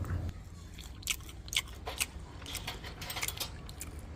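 Baked herb-marinated catfish skin is bitten and chewed close up, with a series of sharp crisp crunches and clicks in an irregular rhythm, quiet overall, with no talk.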